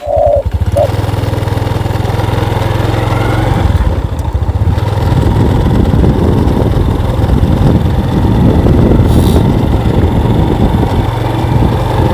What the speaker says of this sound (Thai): กับผมขี่มอเตอร์ไซค์ผ่านนี่แหละครับ